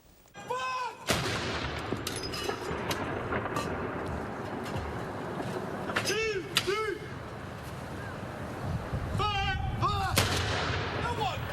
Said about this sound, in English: The Honorable Royal Artillery Company carrying out a 62-gun salute at the Tower of London today